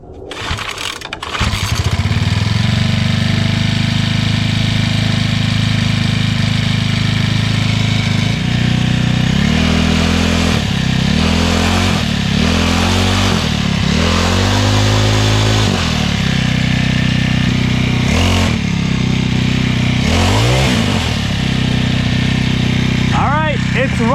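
SYX Moto MK40 four-stroke dirt bike engine starts and runs steadily at idle for the whole stretch, loud and close, with a few throttle blips toward the end and a person talking over it.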